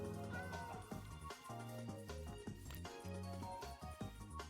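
Minecraft cat meowing, several short game-sound mews over continuous music and game noise.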